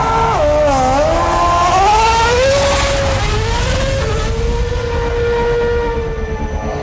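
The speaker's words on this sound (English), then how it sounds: "In just a handful of seconds, an F1 car accelerates to the kinds of speeds at which a jet aircraft takes off." A Formula 1 race car accelerates hard, its engine pitch climbing in quick surges that each break off at a gear change, loud and continuous with no voices.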